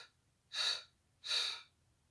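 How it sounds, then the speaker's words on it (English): Two sharp breaths drawn in through the nose during a Pilates class, evenly spaced, close and clear against near silence. "take one breath in through the nose"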